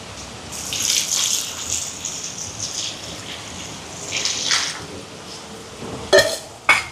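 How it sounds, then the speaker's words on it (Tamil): Water pours and splashes into a pot of sambar for several seconds, followed by a couple of sharp metallic clanks near the end. "இதோட எங்களுக்கு சாம்பாருக்கு தேவையான அளவுக்கு தண்ணி சேர்ப்போம்."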